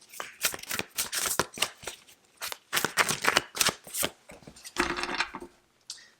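A deck of tarot cards is shuffled close up in quick, crisp bursts of riffling and slapping, with short pauses between passes and no talk.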